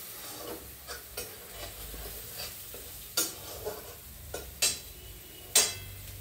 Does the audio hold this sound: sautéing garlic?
yes